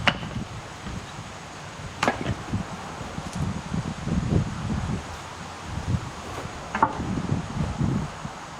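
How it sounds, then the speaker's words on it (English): Gusty wind blows outdoors on a homestead, producing a steady low rumble and buffeting against the microphone, with a couple of sharp knocks standing out near the start and again toward the end. "It's pretty windy today."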